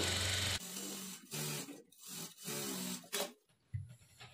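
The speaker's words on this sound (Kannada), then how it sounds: "ಲೈನಿಂಗ್ ಮೇಲೆ ಎಡ್ಜಿಗೆ ಒಂದು ಸ್ಟಿಚ್ ಮಾಡಿಕೊಳ್ಬೇಕು" A sewing machine stitching along the lining edge of a work blouse, running in several short bursts of steady whirring separated by brief pauses, close and fairly loud.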